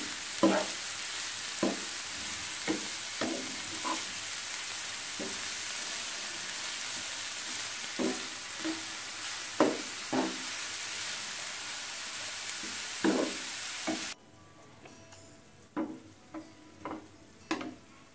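Carrot and potato bhaji frying in a pan is stirred with repeated scraping and clacking strokes over a constant sizzle; the background hiss drops away abruptly toward the end while the stirring goes on.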